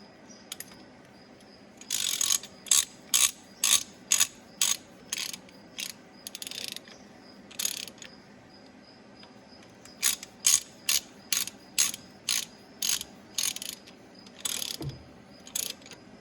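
Bolts on an Allis-Chalmers 7060 tractor motor are drawn down evenly with a ratchet, giving repeated bursts of sharp, rhythmic clicking, about a dozen strokes in two runs separated by a short pause, close up, with no speech.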